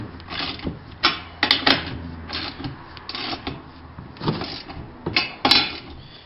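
Metal bolt being tightened during assembly of a MailSwing mailbox mount with heavy-duty steel brackets, heard as close, faint ratcheting clicks and scraping in short irregular bursts.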